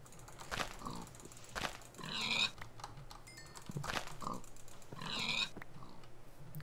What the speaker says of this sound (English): There's pigs over here too